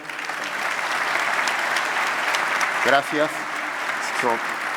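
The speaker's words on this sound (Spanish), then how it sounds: "Pido un aplauso para ellos dos." Audience applause for two speakers at an economics congress, a steady broad wash of clapping throughout, with a few brief spoken words near the end.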